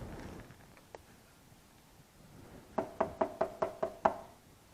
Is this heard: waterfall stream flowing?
no